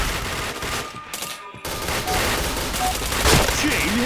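Rapid bursts of gunfire crackle from a shooting video game, dense and loud with a brief gap midway, followed by continued shots and small chiming effects.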